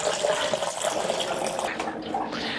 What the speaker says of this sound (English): This is a reverse osmosis water filter.